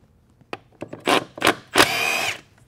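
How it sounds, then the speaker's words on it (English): A Milwaukee 3/8-inch power drive spins off transmission cover bolts on a 4L60E, with several short whirring bursts followed by one longer sustained run, close and loud. "now we're going to use our Milwaukee 3-inch drive to take these cover bolts off here."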